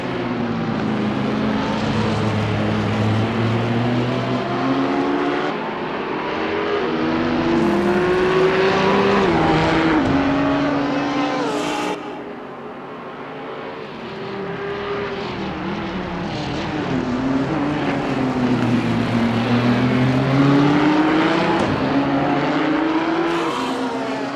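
Race cars, a Nissan and a Ferrari, howl through a Gran Turismo race at the China circuit, with engine notes rising and falling through gear changes, loud and continuous with no talking.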